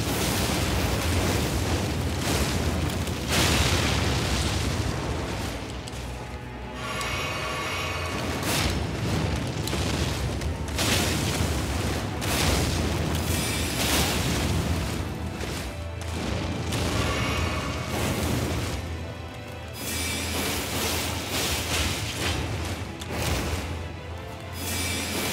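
Magic attack spells cast in a steady spam during Elden Ring DLC combat, a dense continuous roar of bursts, booms and crashing impacts layered over game sound for the whole stretch, loud and unbroken with no talking.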